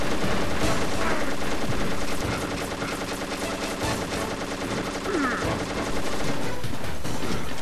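Raven's heavy mounted gun firing in Metal Gear Solid, a loud, continuous stream of rapid automatic bursts with dense crackling and background game noise throughout.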